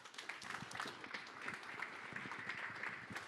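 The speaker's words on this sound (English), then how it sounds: "just give yourself a round of applause" A live presentation audience breaks into sustained applause, a continuous wash of many hands clapping at moderate distance with no voices standing out.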